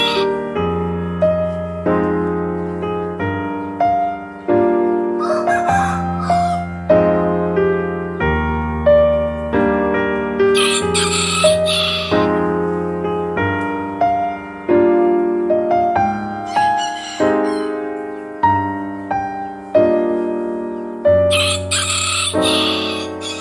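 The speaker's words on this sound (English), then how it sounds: "A rooster goes cock-a-doodle-doo." A rooster crows cock-a-doodle-doo on a farm over a steady musical backing, with loud bright crows repeating every few seconds throughout.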